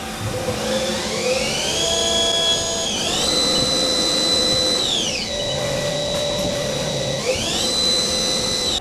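A CNC machine runs its first program to cut a part for a squeeze box, with a loud, steady spindle whine that ramps up and down in pitch several times over a constant mechanical hum, without talk.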